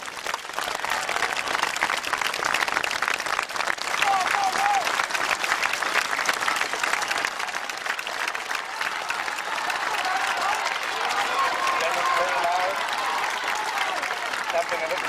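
Sustained applause and crowd noise from spectators at a track race, a 4 x 1 mile relay world record attempt in August 1985, cheering runners as they come along, steady and dense throughout with a few faint voices mixed in.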